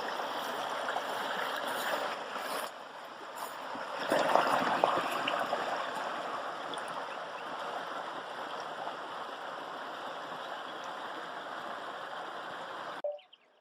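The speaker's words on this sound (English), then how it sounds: "The water's flowing through one of the secondary dirt canals that we have here on the land" Water flows steadily through a secondary dirt irrigation canal toward a bean field on rural land, a continuous close trickling and rushing that holds even for about thirteen seconds, then cuts off abruptly.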